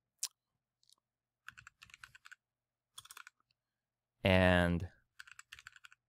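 Keystrokes on a computer keyboard while entering a password on a membership-site signup form, quick bursts of clicking in short clusters separated by pauses, with a brief spoken word in between.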